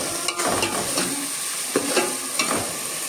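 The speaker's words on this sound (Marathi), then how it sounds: "हा कांदा आपण याच्यात घालून लाल होईपर्यंत हा परतून घेणार आहोत." Onion sautéing in a pan for misal, a steady sizzle broken by several scraping strokes of a spoon stirring through it.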